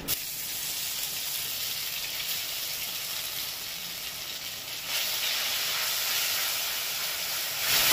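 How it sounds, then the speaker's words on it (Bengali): Garlic paste and green chilli fry in hot oil, giving a steady, bright hiss and sizzle that swells slightly partway through, close by with no talking. "হালকা ভেজে এর মধ্যে দিয়েছি রসুন বাটাটা, রসুন আর কাঁচা লঙ্কা"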